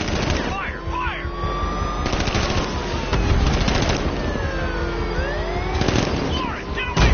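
Gunfire in Batman Arkham Knight, sustained loud automatic shooting over a droning vehicle-like rumble, with sharper volleys standing out now and then and whooshing sweeps passing through.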